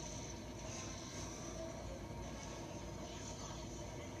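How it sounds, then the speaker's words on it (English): A train rumbles steadily in a Star Wars Rebels video game, a dense continuous mechanical roar with a hissing high edge, moderately loud and without pauses. "Ooh, a train!"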